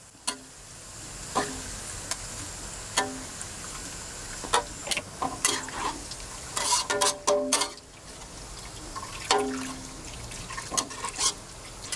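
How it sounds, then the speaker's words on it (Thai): Thai red shallots frying in hot oil for a crispy pork-crackling chili paste, a steady low sizzle broken by sharp clinks and scrapes of a utensil stirring in the pan, with no voices. "เจียวหอมแดงมาจนสีสวยแบบนี้แล้วก็เอาขึ้นเลยครับ"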